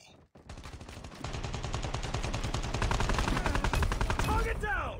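Automatic gunfire in the Call of Duty Mobile multiplayer shooter, a rapid, continuous burst of shots that builds in loudness and stays close and heavy for several seconds.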